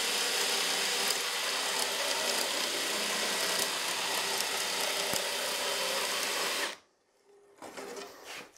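A power drill turns a dowel-making bit into wood, a steady close whirring grind that runs for nearly seven seconds, then cuts off abruptly before a brief quieter burst.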